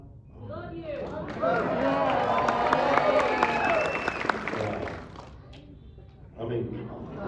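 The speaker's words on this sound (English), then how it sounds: "So, applause to you folks." At a Megacon fan convention, an audience bursts into sustained applause with scattered cheers that swells, fades out, then picks up again briefly, while voices talk over it.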